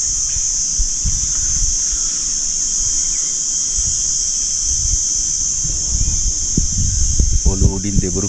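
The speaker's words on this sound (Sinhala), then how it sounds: "ඔලෝ උඩින් දෙබරු පියාඹන්න ගත්තා." Hornets flying overhead in a forest at a rocky hilltop, a continuous high insect buzz with a steady drone throughout, low wind rumble underneath and brief bird chirps near the end.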